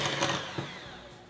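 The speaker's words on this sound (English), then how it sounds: "with a hand mixer or stand mixer, let's blend that together" Electric hand mixer whirring through bread batter, a fairly quiet buzzing drone that swells briefly and then fades as it runs on alone.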